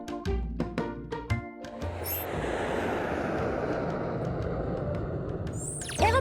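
A broad, steady roar of an airplane engine holds for several seconds after a few opening tones, with a rising whistle-like sound at the end.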